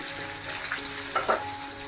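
Spices and chopped coriander sizzle in hot tempering oil for Maharashtrian katachi amti, a steady close frying hiss with a few brief crackling pops, no voices.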